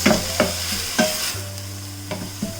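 A paste is sautéed in a pan with a steady sizzle, broken by several distinct scraping stirs of a spoon at irregular intervals, over a low constant hum.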